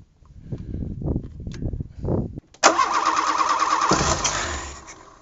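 The engine of an old wrecked car cranks over and catches after a few sputtering attempts, then runs with a steady, rough idle close by.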